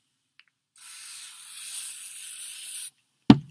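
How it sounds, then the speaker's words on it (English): A spray bottle mists the fabric of a miniature dress in one steady hiss lasting about two seconds, close and clear, followed by a sharp knock as the bottle is set down. "Shake it up and spray both sides of the fabric, underneath the dress and on top"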